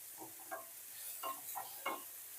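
Onion with green and dried chilies frying lightly in oil for a katla fish head ghonto, a faint sizzle broken by a few short scraping stirs, quiet and close.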